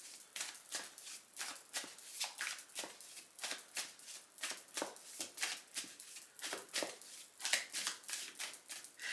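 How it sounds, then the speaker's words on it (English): Tarot cards being shuffled by hand, a rapid series of crisp riffling bursts repeating steadily, close and fairly quiet with no talking. "let's keep shuffling"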